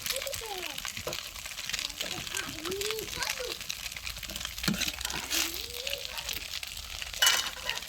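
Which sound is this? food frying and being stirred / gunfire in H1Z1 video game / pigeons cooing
food frying and being stirred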